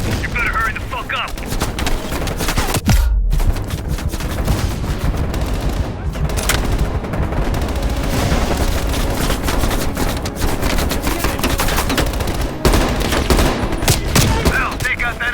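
Machine gun fire in the video game Call of Duty Black Ops Cold War, dense sustained bursts and rattling shots with occasional booms, continuous and loud, with shouted voices mixed in.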